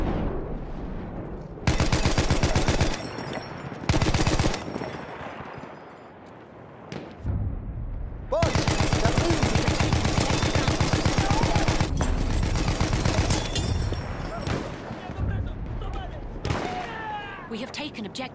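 Enemy machine gun fire in a war video game, loud rapid bursts repeating in long stretches with short gaps, mixed with explosions and shouted voices.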